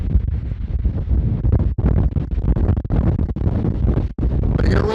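Strong wind on Windy Peak in Nevada's Rainbow Mountain Wilderness roars across the microphone in loud, rumbling gusts with brief momentary lulls.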